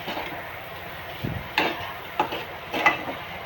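Egg bhurji stirred and sautéed in a pan, a soft steady sizzle broken by a few sharp scraping and clinking strokes of a spatula, close and alone.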